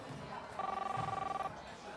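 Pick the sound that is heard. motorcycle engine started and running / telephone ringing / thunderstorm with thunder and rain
telephone ringing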